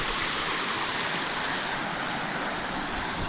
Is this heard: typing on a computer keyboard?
no